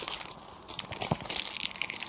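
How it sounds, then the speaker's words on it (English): Foil wrappers of Match Attax football trading card packs crinkle and tear as they are opened close up, a quiet, uneven run of crackling and crunching for about two seconds. "And now I'm just going to open these 2 packs of Match Attax cards."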